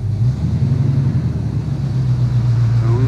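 A 1969 Camaro with a swapped four-speed manual pulling forward, its engine a steady, close, loud low rumble with a droning note that barely changes, and no talk over it.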